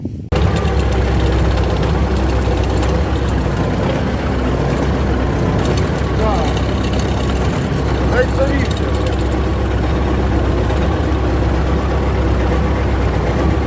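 A T-40AM tractor engine runs steadily while pulling a Kverneland plough, a loud continuous low diesel rumble throughout with little change in throttle.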